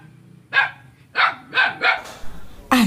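A dog barks loudly in a cave, five sharp, reverberant barks in an irregular sequence over a low background rumble.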